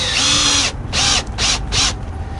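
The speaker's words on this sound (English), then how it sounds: "Now if I screw in on this side" A power drill drives a screw into wood in three bursts of whirring, the first long, then two shorter ones separated by brief pauses, loud and close.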